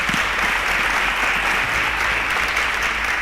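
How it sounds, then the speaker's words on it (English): Studio audience applause for a contestant on a televised science quiz show, a dense, even burst of clapping at steady loudness throughout with no talking over it. "A round of applause for Raibi."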